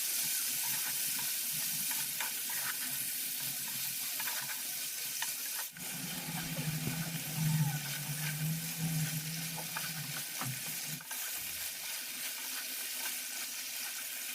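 Chicken fries in a pan with salt and turmeric, a steady broadband sizzle running throughout, with a stretch of louder scraping and stirring in the middle.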